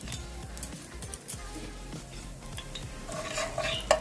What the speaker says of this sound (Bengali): গরম তেলে কালো জিরে, শুকনো লঙ্কার ফোড়ন দেবো